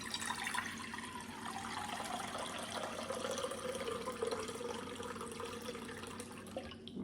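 Tap water runs steadily into a cooking pan, a continuous soft splashing stream, fairly faint and unbroken, with no talking.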